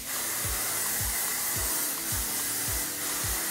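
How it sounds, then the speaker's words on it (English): Steady hiss of She's a Tease volumizing hairspray from an aerosol can, continuous and close, with faint rhythmic low thumps underneath and no talking. "You can keep this all in place by spraying some She's a Tease Volumizing Hairspray."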